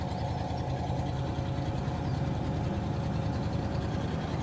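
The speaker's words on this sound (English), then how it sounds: "It now needs a couple of new cats, as you can hear, it's a bit blowy." A Land Rover Discovery 2 with a 4.6 V8 idles with a blowy exhaust from worn catalytic converters, a steady, close, low rumble with a slightly uneven puffing texture throughout.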